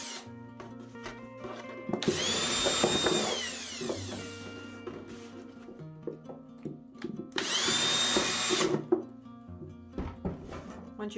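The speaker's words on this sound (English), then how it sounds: "you want to drill a couple of holes on the sides as well." A power drill bores holes into a plastic bottle in two loud whirring bursts, with a pitch that rises and falls, plus handling rubs and clunks of the bottle between them.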